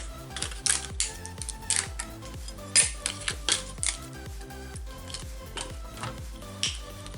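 Paper scrap fed twice through a manual scrapbooking die-cutting machine, giving a long run of crisp rhythmic clicks and ratcheting snaps with a few louder knocks, close and fairly quiet, with no voices.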